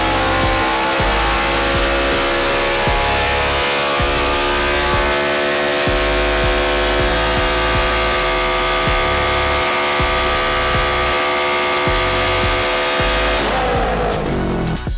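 A race car engine on a dyno holds a loud, steady high-rev drone with dense harmonic tones for most of the run, then cuts off abruptly near the end.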